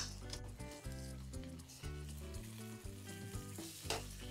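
Eggs with garam masala frying gently in a pan, soft sizzling and light stirring scrapes beneath a strong steady musical backing that dominates the sound.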